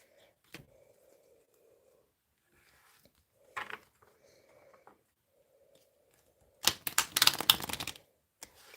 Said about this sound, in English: I'm giving these a good shuffle because that was heavy, that.